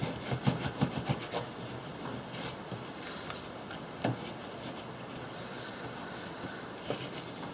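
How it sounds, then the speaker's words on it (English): Paper glued onto a junk journal tag being burnished, a run of quick rubbing strokes at first, then a softer continuous scraping rub with a few isolated louder scuffs, close and alone. "Give that a good burnish."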